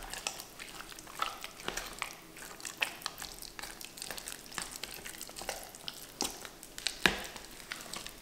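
Guacamole of mashed avocado, red onion and lemon juice is stirred in a bowl, giving soft wet squelches with irregular sharp scrapes and clicks of a utensil against the bowl, close and fairly quiet.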